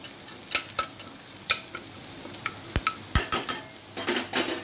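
Finely chopped onions fry in oil inside a pressure cooker, with a soft sizzle underneath and repeated scraping, tapping stirs of a metal spoon against the pot, close and clear with no talk.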